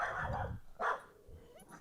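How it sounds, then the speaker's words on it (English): A dog barks from a few feet away, a couple of muffled woofs and a short whine, fairly faint. "sorry about my dog. He's got something to say."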